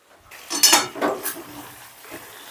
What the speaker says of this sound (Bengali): 2 মিনিট বাদে ঢাকাটা তুলে নিলাম।